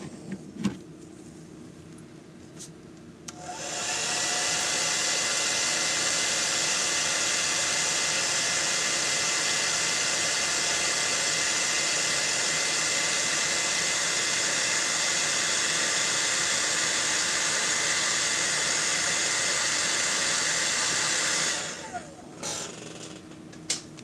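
A hair dryer blasts hot air onto a Rapala DT14 lure being repainted, a loud, steady whooshing roar that switches on after a few seconds, holds for about eighteen seconds, then cuts off.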